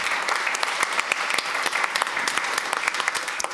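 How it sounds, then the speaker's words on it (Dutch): A studio audience gives warm, steady applause for a guest at an interview event, dense and even clapping with crisp individual claps standing out throughout. "Geef nog even een warm applaus, dames en heren."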